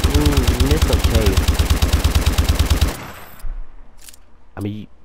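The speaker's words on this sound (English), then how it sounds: "Now, this is a fascinating... machine gun." Rapid, loud machine gun fire from a Call of Duty Advanced Warfare weapon, a steady fast rhythm of shots for about three seconds, then stopping abruptly, followed by faint clicks and a brief voice.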